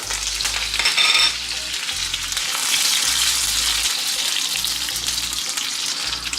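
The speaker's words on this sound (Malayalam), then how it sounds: "കടുക് പൊട്ടുമ്പോൾ ഒരു മൂന്നാണ്ട് കറിവേപ്പില ഇട്ട് കൊടുക്കുന്നുണ്ട്" Curry leaves sizzle and crackle steadily in hot oil in a pan, loud and close, with no voices.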